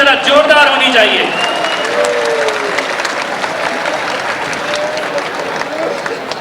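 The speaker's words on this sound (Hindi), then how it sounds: "ये तालियां जरा जोरदार होनी चाहिए।" A large assembly hall gives loud applause for the Chief Minister, a thick, continuous roar of clapping from many people with voices rising over it at the start.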